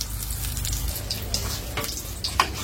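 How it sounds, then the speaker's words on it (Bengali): Pumpkin fritters coated in gram flour batter with salt and turmeric fry in a hot wok, giving a steady low sizzle and crackle with a few brighter pops, alone without talk. "এটা মিষ্টি কুমড়ো দিয়ে ভালো করে এই যে বেসন, লবণ, হলুদ মেখে দিয়ে তারপরে ভেজে নিচ্ছি"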